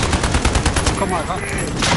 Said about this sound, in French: Quelqu'un me tire dessus.